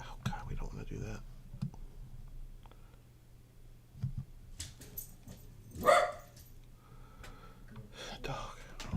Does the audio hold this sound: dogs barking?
yes